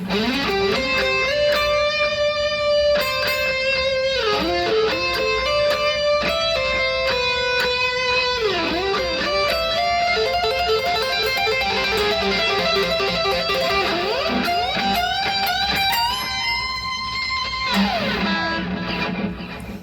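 A distorted electric guitar solo plays continuously, loud and sustained, with note bends, quick runs and held tones, and no voices.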